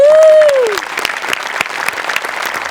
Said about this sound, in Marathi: फक्त मी उभं राहून टाळ्या वाजवू शकतो